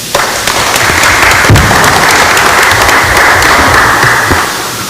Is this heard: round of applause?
yes